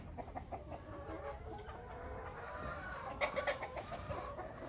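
Faint clucking from several hens and a rooster mixes with a busy background hum, with a few slightly clearer clucks near the end.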